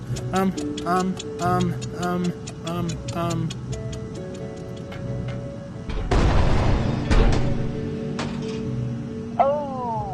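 A grenade ticking in the VR game I Expect You To Die 3, with rapid steady ticks running under background music, then a loud boom-like burst, while game voices are heard speaking.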